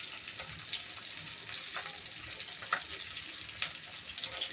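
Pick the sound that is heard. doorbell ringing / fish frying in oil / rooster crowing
fish frying in oil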